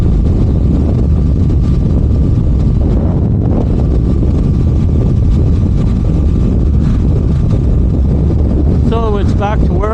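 Suzuki GSXR motorcycle cruising at speed in sixth gear, its steady engine drone buried under heavy, constant wind roar across the microphone, with a brief rising whine near the end.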